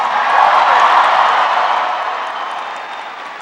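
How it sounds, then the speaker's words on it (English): An audience applauds after an introduction at a university event, a dense wash of clapping and crowd noise that fades steadily over a few seconds with no talking. "Can everybody please give Camille a big round of applause for that introduction?"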